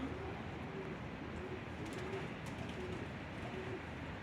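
Faint cooing from butterfly pigeons (Turkish kelebek) repeats softly in a loft over a steady low background hiss.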